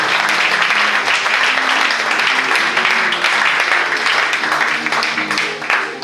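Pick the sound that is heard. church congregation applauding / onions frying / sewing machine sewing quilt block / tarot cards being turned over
church congregation applauding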